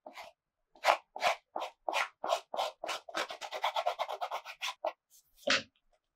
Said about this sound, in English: I'm just roughing up the inner area that's going to be glued